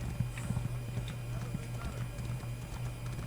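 A horse gallops in a fantasy role-playing game, its hooves thudding in a quick repeating rhythm, steady and moderately close, over a constant low background hum.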